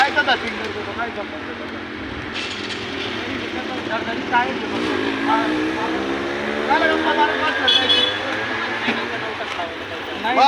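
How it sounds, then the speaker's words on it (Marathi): A car engine runs and revs as the vehicle pulls away, a rising steady drone over about ten seconds with people talking over it. "गाडी काढ घे गाडी"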